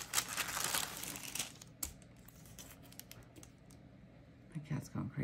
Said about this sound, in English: So let's put this washi down.